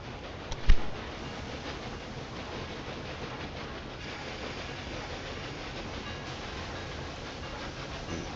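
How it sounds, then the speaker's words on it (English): A train departs in the Railway Empire 2 railway simulation, with a brief thump near the start and then a steady, even rumble of rolling wagons at moderate volume. No one talks. "my train is leaving"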